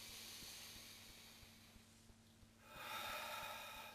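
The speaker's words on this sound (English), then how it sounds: "Take a deep breath in." A single deep breath drawn in during a calm EFT tapping exercise, a soft, airy inhale that swells near the end over a faint steady background hum.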